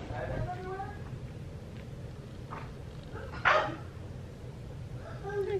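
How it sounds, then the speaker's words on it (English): A toy Australian Shepherd gives a few short barks and yips at close range, with one sharper, louder bark in the middle, while people talk over a steady low background hum. "He is a toy Australian Shepherd."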